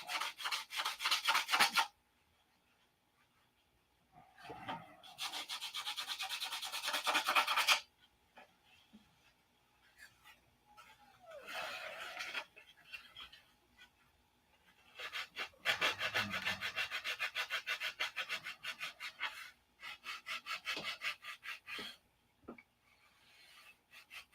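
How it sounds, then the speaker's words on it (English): Hand sanding on wood with an open hand, no block: bursts of rough, raspy rubbing strokes, loud and close, separated by short pauses and a few light knocks. "if you're a beginner sander, I don't recommend you sanding open-handed like this"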